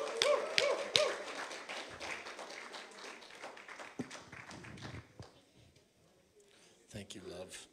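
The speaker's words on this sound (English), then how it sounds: "Let's give them a big hand clap," A church congregation claps, with scattered cheers and voices mixed in, sharp hand claps and taps fading toward quiet before a brief burst of sound at the end.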